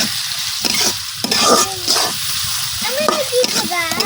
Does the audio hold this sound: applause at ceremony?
no